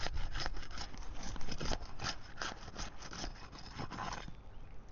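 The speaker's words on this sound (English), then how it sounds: "So we're going to start off by unsealing our assessment shingle here." Roof shingles being pried and unsealed from their adhesive strips during a shingle repair assessment, giving a continuous scraping, rubbing, crackling noise with repeated strokes, close and steady throughout.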